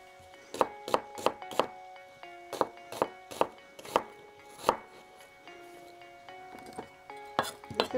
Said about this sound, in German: Ich schneide mir jetzt mal eben schnell hier ein paar rote Zwiebeln runter